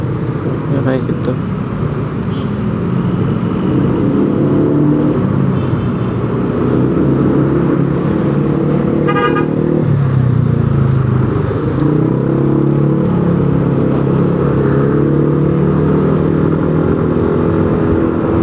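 Congested Jakarta road traffic with cars and motorcycles crawling in a jam, a dense steady engine rumble and road noise close by, with a brief passing rev and a voice talking over it.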